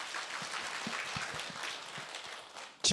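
Brief applause from a small audience at a meditation counseling lecture, a patter of scattered claps at moderate distance that fades out, ending in a short bump of noise.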